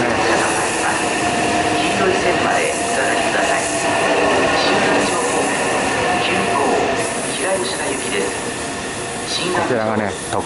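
A Meitetsu train pulls into Gifu station with a loud, continuous rumble and hiss, rails clattering near the end, while a voice speaks over the noise.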